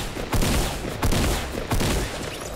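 Three loud, close bursts of gunfire sound behind the players in Fortnite, evenly spaced with short echoing tails and no talk over them.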